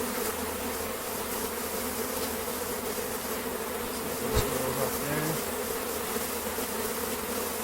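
Honey bees hum in a steady, close, dense drone around an open super colony hive during a check for the queen or signs of swarming, with one brief knock partway through.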